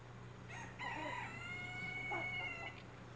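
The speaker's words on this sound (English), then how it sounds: "A bunch of chickens in the garden still." A rooster crows once in a garden where a flock of chickens roams, a drawn-out, fairly faint call rising and holding before trailing off, over a steady low background hum.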